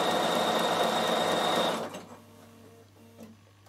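A Bernina sewing machine couching wool felt for a door stop hums in a loud, steady run that stops abruptly partway through, leaving quiet room noise and small clicks.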